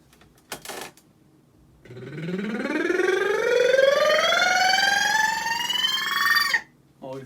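A vocal lip trill glides steadily upward in pitch for several seconds, buzzy and sustained, with short bursts of sound before and after.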